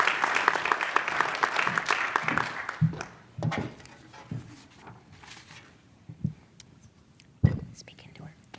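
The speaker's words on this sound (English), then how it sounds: "Let's give a hearty round of applause for Carson as he steps forward to address us" Applause at a Lancaster County Academy graduation ceremony for a graduating student rises briefly at first, then thins into scattered, fading claps with murmuring voices and a few sharp knocks.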